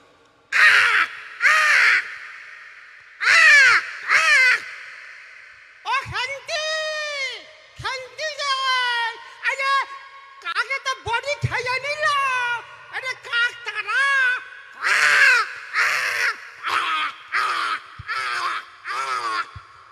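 A performer's voice imitating crows cawing, in bursts of harsh repeated caws that alternate with sliding, whooping vocal calls, close and loud, with short pauses between phrases.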